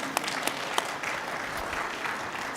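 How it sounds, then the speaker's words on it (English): An audience applauds panelists at a World Tourism Day 2023 celebration, steady moderate clapping with a few sharp individual claps standing out near the start, heard from a short distance. "A round of applause for our panelists, please."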